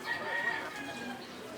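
A fighting rooster crows faintly in the distance over a low background hiss, brief and thin.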